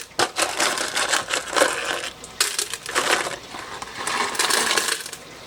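Ceramic media rattles and clatters into a Diamond Pacific mini sonic vibratory tumbler used for polishing Southern Illinois fluorite, a dense run of sharp clinking bursts that stays loud and continuous.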